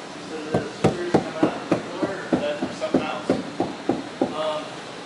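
A mallet strikes a putty knife to scrape fiberglass off a boat deck during restoration, giving a steady series of sharp, close knocks and taps with scraping between them.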